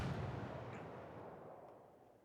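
Warship guns firing in World of Warships: a single low, rumbling boom that fades out over about two seconds, quiet and somewhat distant.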